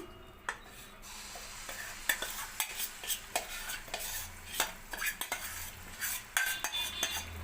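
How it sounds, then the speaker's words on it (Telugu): Semolina (rava) stirred in hot oil in a pan while making rava laddu: close, irregular scraping and clinking strokes of a spoon against the pan over a low sizzle, with no voices. "ఇప్పుడైతే ఆయిల్ వేడెక్కిందండి. ఇప్పుడు దీంట్లో రవ్వ పిండి వేస్తున్నాను."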